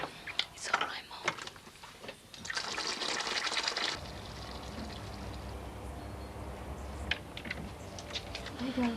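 Water being poured into a glass in a home, a steady liquid gurgle of several seconds that rises after soft whispering and low voices, then continues under quiet background noise.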